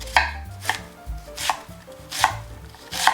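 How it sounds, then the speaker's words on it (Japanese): A knife chops a new spring onion into roughly 1 cm cubes on a cutting board, five crisp, evenly spaced strikes up close with a soft low thump beneath each one. "新玉ねぎはだいたい1センチ角程度に切ります"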